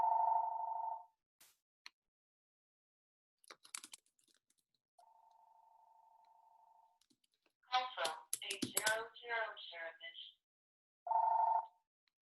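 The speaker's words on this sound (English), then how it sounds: "Sorry for the phone in the background." A telephone rings in the background with steady electronic tone bursts, one short, one long and another short, separated by silence, with scattered clicks and a brief burst of mixed chatter in between.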